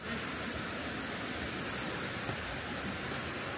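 Waterfall at a nature spot reached by a paved path with steps, heard as a steady, even roar of falling water with no breaks, close and moderately loud, filling the whole moment without any voices.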